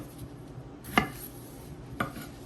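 Knife slicing fresh tomatillos in half on a cutting board for green tomatillo sauce, two sharp separate cuts about a second apart over quiet kitchen background.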